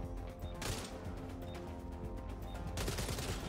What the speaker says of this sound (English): I've really been enjoying the SMG.